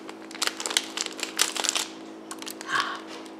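Crinkling, crackling noises of plastic snack packaging from Daiso being handled and cut open with scissors, several short bursts close to the microphone over a low steady hum.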